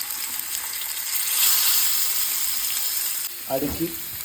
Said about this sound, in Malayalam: എണ്ണയ്ക്ക് വില കൂടുതലായതുകൊണ്ട് ഇപ്പോൾ ഉള്ള എണ്ണയിൽ നമ്മൾ വറക്കാൻ പോവുകയാണ്